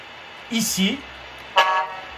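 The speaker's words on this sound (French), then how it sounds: "vous avez le klaxon" An electronic horn from a Tamiya MFC-03 multi-function unit in a radio-controlled car sounds in two short toots, a brief pause between them, clear and fairly loud against a quiet room hum.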